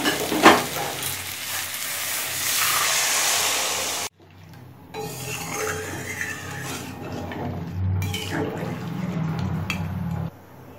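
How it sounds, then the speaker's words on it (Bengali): Hot water poured into a pan of frying fish heads for a Bengali moong dal, first a steady sizzling hiss, then a sudden drop and softer bubbling with stirring and pan clinks close by. "এবার গরম জল দিয়ে দেবো।"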